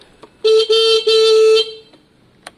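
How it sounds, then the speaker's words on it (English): A loud, close horn on a KSR Moto GRS 125 motorcycle sounds in three sustained blasts with brief gaps between them, then a short faint click afterward. "So how loud is the horn now?"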